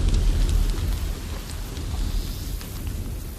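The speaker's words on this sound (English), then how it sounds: "soldiers on both sides caught what sleep they could under a heavy downpour" Heavy downpour on a battlefield the night before battle, a dense steady rumble of rain with scattered drop hits, continuous and fairly loud throughout.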